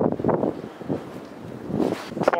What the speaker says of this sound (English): Proper windy up here,